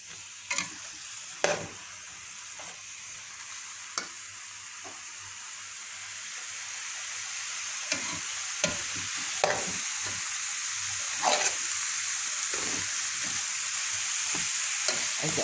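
Zucchini and onion sauté in a pan with a steady, soft sizzle, broken by occasional clinks and scrapes of a spoon stirring, close and fairly quiet, with no talking.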